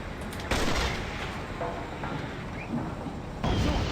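Objects are shot and blown up in the video game Armed and Dangerous, with dense, continuous explosive rumble and gunfire, louder bursts hitting at the start and again near the end.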